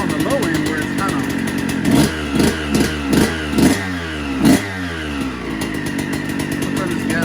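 A 2000 Suzuki RM 125 two-stroke dirt bike engine runs loud and close with a buzzing idle, then several sharp throttle blips rise and fall in a quick rhythm before settling back to idle.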